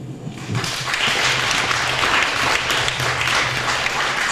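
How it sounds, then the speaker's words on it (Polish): An audience at a Polish patriotic poetry recitation event applauds teachers and parents, with clapping swelling in after a brief moment and settling into a thick, continuous roar of hands. "Wielkie brawa dla nich."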